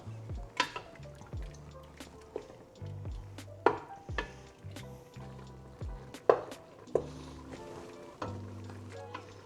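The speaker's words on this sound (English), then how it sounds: "And now we stir." Loquat mixture is stirred in a pot over medium-high heat, with scattered soft scrapes and clinks of the spoon over a quiet simmer, irregular and close.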